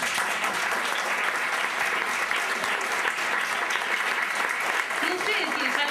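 Audience applause fills a live stage concert of Argentine songs, a dense, steady patter of clapping from a crowd that carries on unbroken through the whole stretch.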